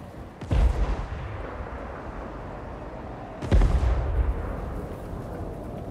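Cannon artillery fire from a Total War: Warhammer 3 battle, two heavy, loud booms about three seconds apart, each with a long rumbling tail, over constant battlefield noise.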